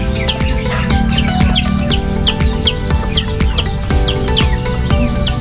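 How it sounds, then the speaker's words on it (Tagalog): Two brooding hens sitting on eggs in a chicken coop give repeated short clucks and chirpy calls, close and continuous against a steady farmyard background. "ito po dalawang naglilimlim manok"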